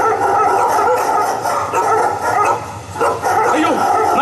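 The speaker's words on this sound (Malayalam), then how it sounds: "അയ്യോ നായ്ക്കൾ, എനിക്ക് പേടിയാവുന്നു." Dogs barking and yipping in a busy, loud scene, with voices speaking over the barks.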